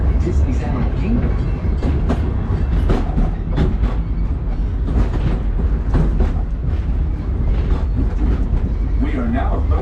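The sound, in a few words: Disney Animal Kingdom train ride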